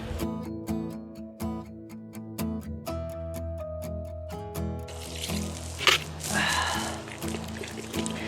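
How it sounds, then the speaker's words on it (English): Water is poured from a container into plaster mix for an animal track mold, a splashing, gurgling stream that grows louder and fuller in its second half, over a rhythmic ticking backing beat. "So here goes the water."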